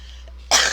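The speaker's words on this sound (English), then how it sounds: "Let me clear my throat." A single short, harsh throat clearing bursts out abruptly after a near-silent moment, close and fairly loud, in a raw voice recording.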